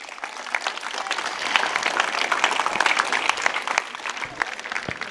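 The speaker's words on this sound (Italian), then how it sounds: "Grazie ragazzi, un applauso." An audience at a youth event applauds, a lively crowd of individual hand claps, crisp and uneven, rising slightly in the middle and continuing at a moderate level without talk.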